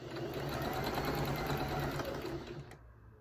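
A sewing machine stitches quilting fabric in a steady, fast continuous run that fills the clip and stops abruptly near the end, with no talking over it.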